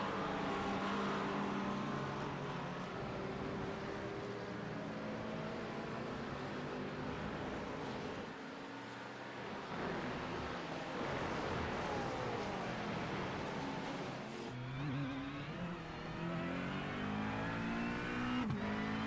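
Race cars in a Midwest Motorsports event at Laguna Seca roar past continuously, engines revving and shifting as they go by, with a steady loud drone throughout.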